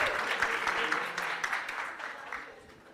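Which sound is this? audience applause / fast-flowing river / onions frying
audience applause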